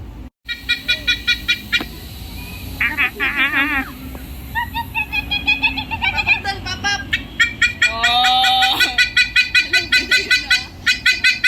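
Chickens cluck rapidly and repeatedly, close by, with a steady pulsing rhythm and a few louder squawks in between.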